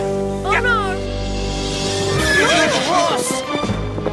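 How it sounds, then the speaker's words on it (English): A horse gives a loud, close whinny, then a second neigh trails off through the middle. Shouting voices and other action noise carry on around and over the calls. "Horse!"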